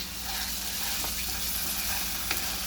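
Tomato ketchup being stirred into sizzling mutter paneer in a pan, a steady close frying hiss with occasional spoon scrapes and taps, no talking.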